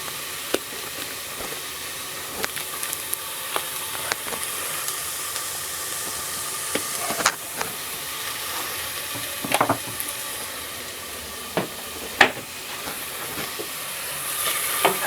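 Onions and mushrooms fry in oil with a continuous close sizzle, broken by occasional clicks and scrapes of stirring, and no voices.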